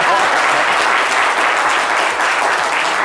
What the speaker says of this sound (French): Applaudissez pour les baoulés.